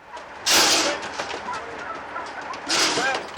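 Chickens clucking and squawking in bursts, with flurries of louder flapping and noise, under a voice describing chickens and turkeys packed into crowded cages.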